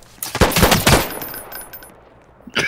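Rapid automatic gunfire from a gun in a Roblox shooter video game: a loud, fast burst of close shots lasting under a second, then fading, with a single shot starting again at the very end.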